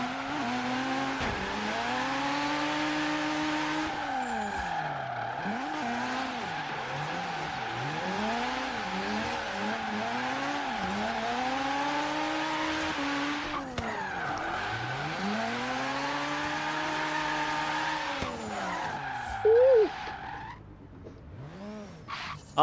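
Rotary-powered Mazda RX-7 on lowered rally suspension drifting in Forza Horizon 3, its engine wailing and swooping through repeated rev rises and falls with long tire squeals. The sound stays close and loud, with no talking.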